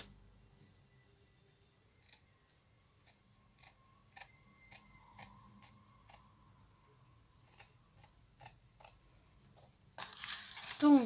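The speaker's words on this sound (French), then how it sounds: "Donc là je coupe." Scissors cut a strip of lace in quiet, separate snips that grow more frequent, close up and faint. A louder rustle follows at the end.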